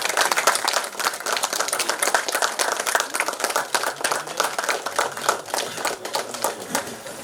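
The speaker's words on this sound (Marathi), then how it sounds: "जोरदार टाळ्या होऊ द्या" An audience at a university felicitation ceremony gives steady, vigorous applause. Dense, close clapping runs evenly throughout without a break.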